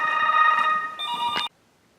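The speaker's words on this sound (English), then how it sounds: "oh, it's the phone" A telephone rings nearby with a bright electronic warble, one ring lasting about a second and a half before cutting off to silence.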